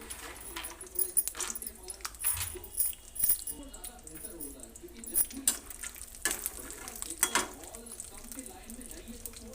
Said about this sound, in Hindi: तो मैं घी में सारे ये ड्राई फ्रूट्स को भूनूंगी